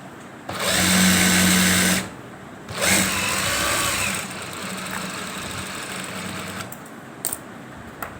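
A sewing machine running steadily as it stitches the top edge of a lined men's shalwar stiffened with pressed buckram, a close mechanical whir in two sustained runs separated by a brief pause, with a lighter hum continuing afterward.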